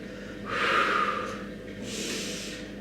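Two slow, audible breaths during a yoga-inspired stretch-and-tone workout in a hotel room, each a soft breathy rush, close to the mic, with a brief pause between them and no talk.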